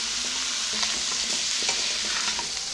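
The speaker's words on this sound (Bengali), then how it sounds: "সবজিগুলো দিয়ে আবারও বেশ কিছু সময় ধরে নাড়াচাড়া করতে থাকবে" Chicken pieces with chopped papaya, potato and carrot stirred in a hot pan for a chicken stew, a steady close sizzle with scattered scraping spatula strokes throughout.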